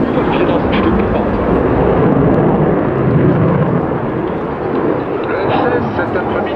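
A Dutch F-16 fighter jet flying at an air display roars loudly overhead, its single engine giving a broad, steady thunder. An announcer talks over the noise the whole time.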